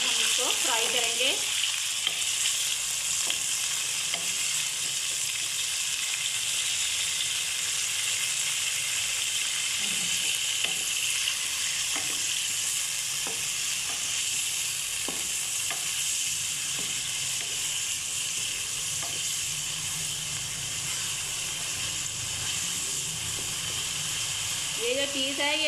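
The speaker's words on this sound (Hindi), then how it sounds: "तो 3 से 4 मिनट तक अब हम इसको फ्राई करेंगे।" Meat and onion masala fries in a pan for achar gosht, a loud, continuous sizzle with occasional stirring scrapes, while a person talks quietly underneath.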